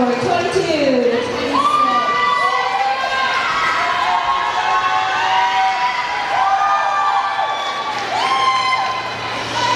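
An audience at a Tahitian dance competition cheers and claps for the dancers. Whoops, shouts and children's voices sit over a steady, dense crowd roar that lasts throughout.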